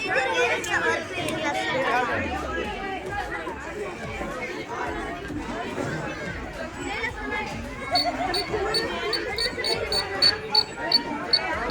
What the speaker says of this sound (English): I have made the flood disaster alarm to prevent or to alert that flood is coming towards the earth